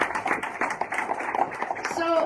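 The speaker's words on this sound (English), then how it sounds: "So a round of applause for Max." A round of applause at a workforce development course graduation, with fairly faint, rapid clapping from a modest group under children's chatter and voices.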